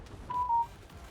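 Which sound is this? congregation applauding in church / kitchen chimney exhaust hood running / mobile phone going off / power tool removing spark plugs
mobile phone going off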